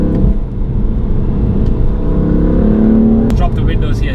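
A BMW F80 M3 pulls hard under acceleration, its engine note a loud, continuous rising drone. The pitch climbs steadily before a sharp click near the end and a brief shift in tone.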